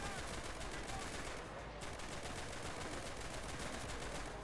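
Rapid Colt automatic fire with a modded sound in Enlisted's zombie survival mode, a dense unbroken stream of close shots for several seconds.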